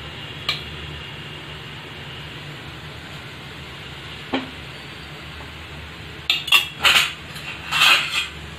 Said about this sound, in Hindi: ये चम्मच की सहायता से हम इसको गोल आकार में इसको इसके ऊपर बिछाएंगे।